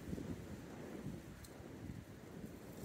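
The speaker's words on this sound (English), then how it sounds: "You can hear the wind in the trees." Wind blows through trees along the Appalachian Trail near Rockfish Gap, a steady, soft, low rushing roar with no talking.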